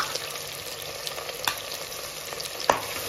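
Masala fries in a pan with a dense, steady sizzle and occasional louder stirring knocks and scrapes, close up and without speech.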